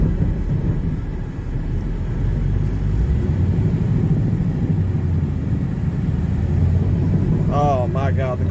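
A 1970 Buick GS with a shot clutch drives along, its engine a steady loud low rumble throughout, while a loose muffler knocks at the rear. Near the end, voices speak briefly over the drone.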